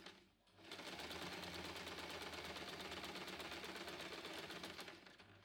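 A sewing machine stitches along the edges of a reversible tote's fabric, a fast even rattling run that starts after a brief pause and holds steady for several seconds, close and alone.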